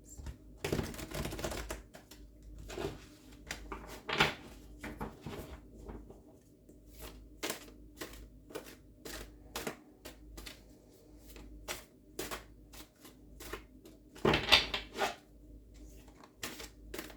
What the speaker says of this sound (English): I will be shuffling it 5 times.